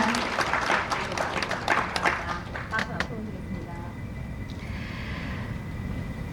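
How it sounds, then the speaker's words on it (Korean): Audience applause at a Korean ESG award ceremony swells into steady, dense clapping for about three seconds, then thins out and fades under the hall's background hum, with a voice speaking faintly over it. "여러분 큰 박수 보내주시기 바랍니다."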